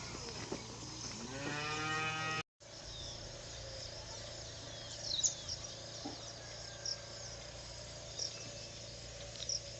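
Cattle on a farm give a short low moo early on, then fall quiet, with crickets and insects buzzing steadily in the background and faint birds calling.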